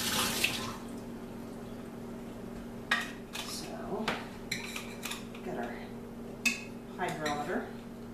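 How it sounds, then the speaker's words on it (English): Homebrew wine equipment being rinsed at a sink, with steady running water under a low hum and several clinks and knocks of gear against the basin scattered throughout. "So we're going to rinse this real quick."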